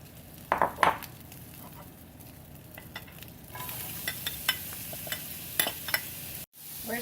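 Onions sizzle in a hot pan while a utensil scrapes and stirs them, with clinks against the pan rising over a steady, close frying hiss.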